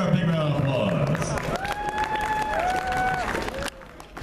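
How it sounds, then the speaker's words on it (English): Audience applause at the Geeknomicon 2014 convention opening ceremony as a guest of honor is welcomed: a steady wash of clapping and crowd noise lasting about four seconds, mixed with voices and a held musical tone. "Give her a big round of applause."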